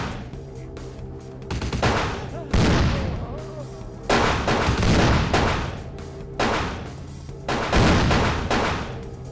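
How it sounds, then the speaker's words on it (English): Shootout gunfire in Vampire: The Masquerade, with several loud bursts of shots and booming impacts coming in waves over about nine seconds, close and forceful. "Do I let them keep shooting each other?"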